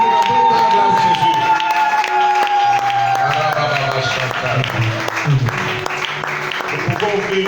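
Church congregation applauding and cheering for Jesus during a prayer service, sustained clapping from a crowd with voices and music underneath.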